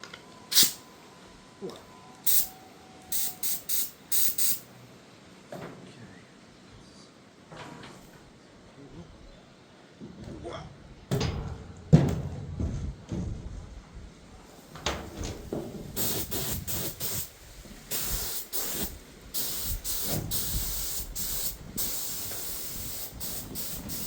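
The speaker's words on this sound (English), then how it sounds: "Sprays really nicely." A spray can or spray gun hissing paint onto a rusty car trailer in the late afternoon, with short bursts at first, then longer sustained sprays mixed with clattering handling noises.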